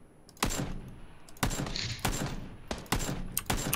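Gunfire in the battle-royale game PUBG: five or six sharp, loud shots spaced irregularly about half a second to a second apart, each with a short crackling tail.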